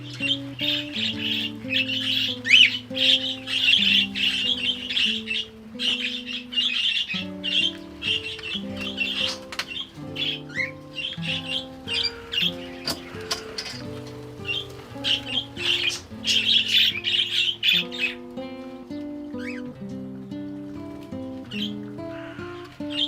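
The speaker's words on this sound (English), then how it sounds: "And the birds go crazy for it." Pet birds squawking and chirping indoors in a busy, uneven burst of calls, some harsh and loud and others shorter and softer, running on without pause and with no one talking.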